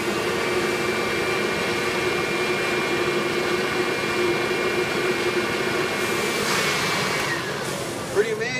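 An upright vacuum cleaner with a direct motor system runs with a loud, steady whine and roar, close and continuous, dropping off slightly near the end.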